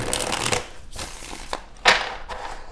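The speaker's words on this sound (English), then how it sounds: "Let's go and get a shuffle in here." A deck of tarot cards being shuffled by hand, heard as several close bursts of papery riffling and rustling with short pauses between them, with one sharper snap near the end.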